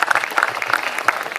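Applause from an audience at the unveiling of the set for a Marathi TV serial, a steady dense clapping that runs throughout with sharp individual claps standing out.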